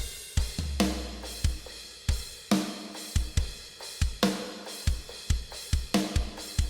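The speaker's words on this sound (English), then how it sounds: "When you do use crashes instead of rides or hi-hats," Heavy shoegaze drum beat programmed in FL Studio with crash cymbals in place of rides or hi-hats: loud, regular kick and snare hits, each followed by a washing crash, repeating steadily with no talk.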